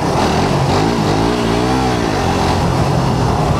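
A Suzuki GSX-R150 motorcycle engine revs loudly and steadily up close, its pitch rising and falling over a few seconds with no voices.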